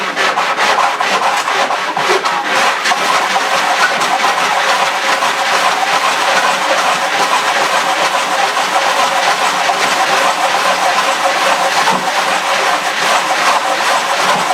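Sanding a radius into a rim, a continuous close rasping rub that holds steady and loud throughout, no talk.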